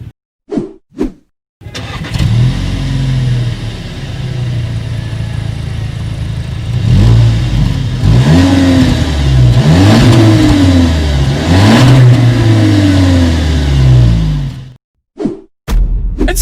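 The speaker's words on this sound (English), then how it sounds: "here is that exhaust clip" A Volkswagen Arteon engine starts with a burst, idles with a deep exhaust rumble, then revs up several times in rising and falling swells before cutting off.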